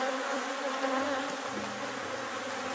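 Honeybees buzzing on a hive frame during hive splitting and queen rearing, a dense, steady, close-up drone of many bees with no voices.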